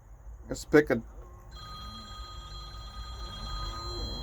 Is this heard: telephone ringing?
yes